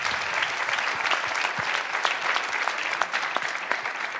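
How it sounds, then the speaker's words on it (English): Applause from a conference audience honoring a housing and community development panel, steady dense clapping throughout at moderate level, with no voices breaking through. "Let's give our panelists a round of applause."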